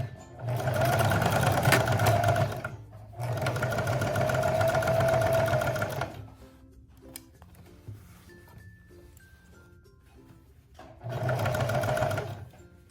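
A sewing machine runs a single-needle straight stitch at length 3 along the seam of a mini dress bodice, in three steady, loud bursts of stitching separated by a quiet pause.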